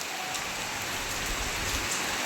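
Steady, dense rain pouring down, a constant even hiss of drops hitting surfaces close by, with no voices.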